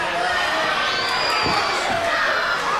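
A wrestler at a CCW championship match, Brick Bronson, hurls Luke Frost over his head onto the ring mat, landing in a single dull thud midway through, buried under a roaring, jeering crowd and an announcer's commentary.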